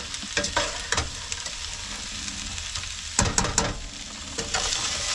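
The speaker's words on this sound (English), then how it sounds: "the goal here is to brown up those potatoes and reduce down your mirepoix" Potatoes and mirepoix brown in a pan with red chili flake, cooked in a small 1991 Toyota Warrior motorhome kitchen: a continuous close frying sizzle broken by scraping stirs and clatters, louder in bursts around the middle, with no speech.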